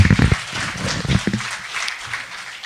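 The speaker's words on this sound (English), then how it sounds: "And big round of applause for him." An audience applauds a speaker at the LayerOne 2014 security conference, a brief wash of clapping that starts strong, then thins and fades.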